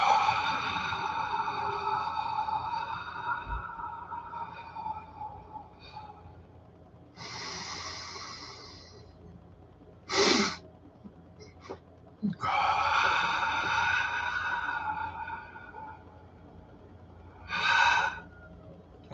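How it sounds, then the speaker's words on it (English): Deep breathing exercise with forceful exhales pushed out through the mouth from the stomach, several breathy bursts separated by quieter stretches, close and fairly loud, no talking. "we let it flow out, fall out through our mouth, using our stomach at the end to get rid of everything, and then immediately into the second breath"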